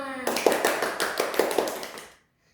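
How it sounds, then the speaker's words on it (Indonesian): A group of children and adults claps together at a storytelling competition, a steady run of sharp hand claps lasting about two seconds before stopping abruptly. "tepuk tangan untuk kita semua"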